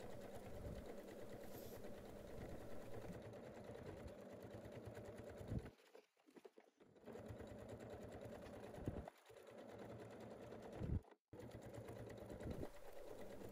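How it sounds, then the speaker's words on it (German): A sewing machine topstitching close to the edge of a fabric bag with a zipper, stitch length 3 mm, runs in a steady close whirring stream, broken by brief pauses and restarts, with no voices over it. "Dann wird dort an der Kante knappkantig abgesteppt."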